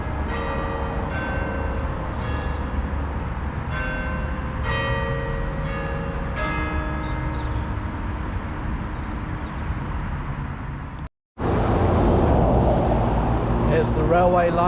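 Church bells peal from a tower in Doncaster, heard across an open street with steady traffic rumble underneath; the ringing is cut off and noisy street ambience follows.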